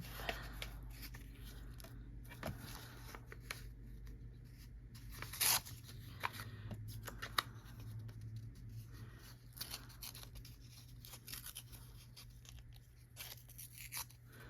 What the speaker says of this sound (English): I'm just kind of tearing a wonky piece of paper